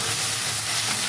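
Chicken and spices frying in a pan, a steady broadband sizzle and hiss that runs unbroken and fairly soft through the short moment, with no voices.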